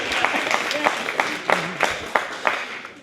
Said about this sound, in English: You guys could clap for that part.